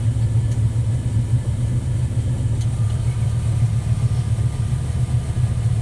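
Gleaner combine harvester running while unloading grain, a steady low engine drone with a constant rumble and no talking.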